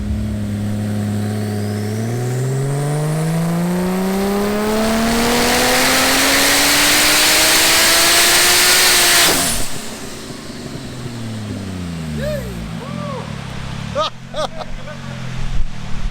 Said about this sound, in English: it's the first time I've ever seen this car run on a dyno